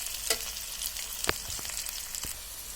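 Onions softening in a pan for a lau shak dish, giving a steady sizzle with a few sharp clicks and stirring scrapes, close and moderately loud, with no talk.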